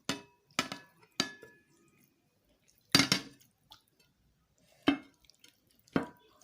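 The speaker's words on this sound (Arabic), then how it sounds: "هبتدي انقع بقى الفراخ بتاعتي، احطها كلها." Washed chicken pieces, cleaned with salt and lemon and drained, dropped one after another into marinade in a bowl, giving a series of separate wet slaps and clinks with quiet pauses between them.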